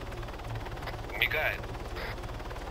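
Bursts of gunfire in a video game shooter fire at the players, short rapid cracks and pops amid steady background noise, while players talk over the action.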